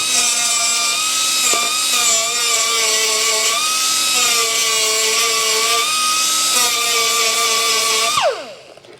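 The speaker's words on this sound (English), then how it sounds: "you just take a little sander and go ahead and trim them off" A small sander trimming metal on a Yamaha 360 flat tracker frame with a Champion chassis, giving a loud, steady high-pitched whine that dips slightly under load, then spins down at the end.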